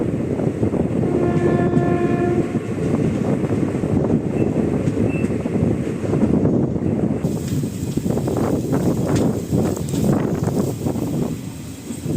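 A train rumbles past loudly and steadily near Pollachi Junction, India, its horn sounding in a long blast early on, with wind noise throughout.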